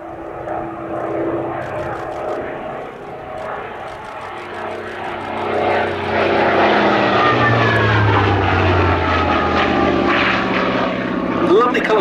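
A Hawker Fury II Sea Fury piston-engined fighter in a prototype Mark 10 colour scheme flies at the Duxford Battle of Britain Airshow 2023. Its propeller engine drones loud and steady, swelling as the aircraft passes, and a commentator speaks over it.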